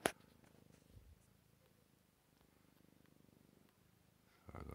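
A cat purrs on a person's lap, a soft, low, steady rhythmic rumble heard up close, with a brief rustle at the start and a louder shuffle near the end.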